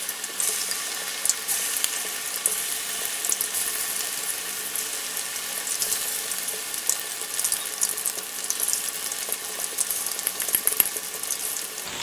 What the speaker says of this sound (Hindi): तो अब हम इसमें चिकन डालेंगे कढ़ाई में।